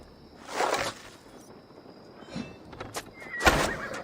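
Horses in a video game let out a couple of short whinnying bursts, with scattered hoof clops and thunks in between, set against a quiet background.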